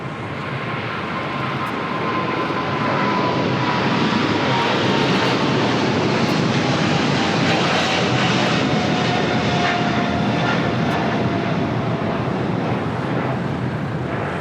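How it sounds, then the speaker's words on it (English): A China Airlines cargo Boeing 777 thunders down the runway on its takeoff roll at LAX, a loud, steady jet roar with a faint whining tone sliding slowly lower, wind buffeting the microphone throughout. "we got that China Airlines cargo 777 now rolling down to"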